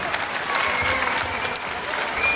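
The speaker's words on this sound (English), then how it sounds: "And there the crowd love that." A wrestling crowd applauds loudly and steadily in an arena, continuous clapping with a commentator's voice faintly underneath.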